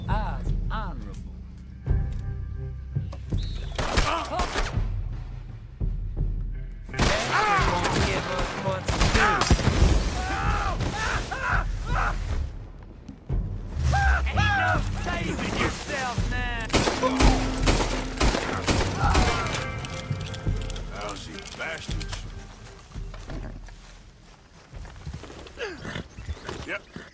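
A burst of gunfire in Red Dead Redemption 2, with rapid shots rattling through a busy mix of hoofbeats and music while people talk loudly over it.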